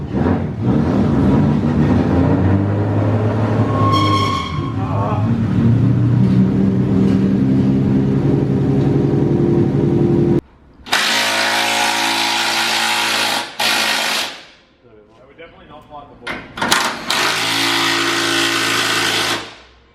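A Nissan Skyline R34 with a T51R turbo upgrade runs on a dyno, a loud sustained engine drone broken by abrupt cuts and renewed hard revving pulls, with a short quieter lull between bursts.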